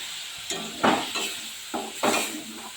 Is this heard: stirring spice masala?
yes